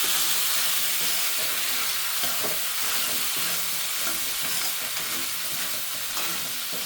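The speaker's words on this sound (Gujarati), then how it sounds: "એને સરખી રીતે આપણે હલાવી લઈશું।" Manchurian pasta being stirred in a hot pan, with a steady close sizzle and frying hiss under scraping stirring, and no voices.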